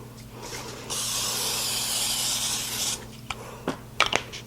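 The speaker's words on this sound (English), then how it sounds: "we're going to lightly spray it with some cooking spray" A single steady hiss of aerosol cooking spray into a baking dish lasting about two seconds, close and moderately loud, followed by a few light clinks and taps.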